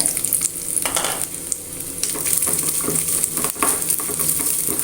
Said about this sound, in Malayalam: അതൊന്ന് ആദ്യം വറുത്തിട്ട്